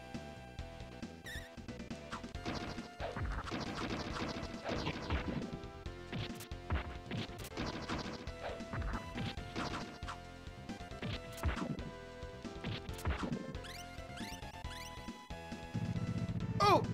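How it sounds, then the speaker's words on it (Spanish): Crashing, smashing bursts from the Power Rangers game on Super Nintendo as the floor explodes, repeated sharp impacts scattered through chiptune music, with a heavier rumble near the end. "¡Explotó el piso!"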